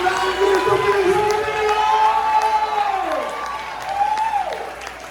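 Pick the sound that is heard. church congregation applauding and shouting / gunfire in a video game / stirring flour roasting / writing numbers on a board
church congregation applauding and shouting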